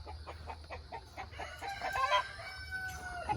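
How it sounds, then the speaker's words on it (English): A rooster crows nearby on a homestead over scattered clucking and chatter from other chickens and roosters, with a steady low hum underneath. "We got too many roosters in here."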